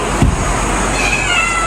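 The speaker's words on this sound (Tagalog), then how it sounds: "Nasaan na si Pusa?" A cat meows once, loud and close, over a steady background hum, with no voices during the call.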